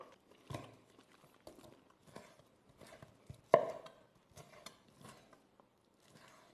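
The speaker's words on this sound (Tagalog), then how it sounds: "Inihaw na liempo sa kawali. I-chop lang natin to." Grilled pork belly chopped on a board with a knife, a string of irregular sharp thuds, one louder whack midway, near and clear with no talking.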